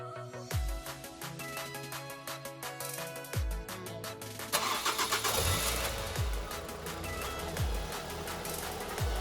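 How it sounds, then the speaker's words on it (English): A Ford Fiesta ST150 engine is started with a few short cranking bursts, then catches and settles into a running idle close by, with no talking. "and then I'm going to start the car."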